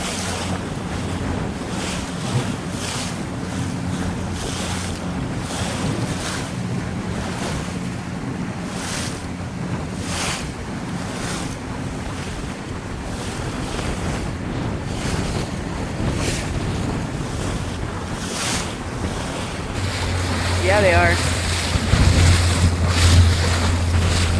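Private boat moving through ocean waves off Cabo San Lucas, a loud continuous rush of water and wind buffeting with rhythmic wave slaps and a deep engine drone rising near the end.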